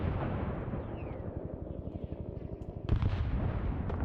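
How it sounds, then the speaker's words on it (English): Player-called artillery in SOG Prairie Fire, a Vietnam War game, fires and lands in a fast string of heavy distant booms that roll on for several seconds. A sharper, louder blast hits near the end. "you see the player artillery being put down here"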